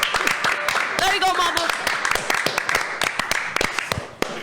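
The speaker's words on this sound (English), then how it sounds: "Can we give her a round of applause?" Studio audience applause and claps on a talk show, a dense patter of many hands fairly close, mixed with a few shouts and people talking over it.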